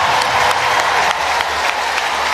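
A stadium crowd at a track meet applauds as a sprinter is introduced before a 200m race, a loud continuous wash of clapping and crowd noise throughout the short stretch, without talk.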